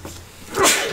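A single sneeze bursts out close and fairly loud near the end, after a quiet stretch of room noise.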